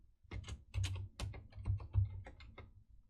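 Someone types a password on a computer keyboard: a quick, close run of crisp key clicks lasting a few seconds, with no talking.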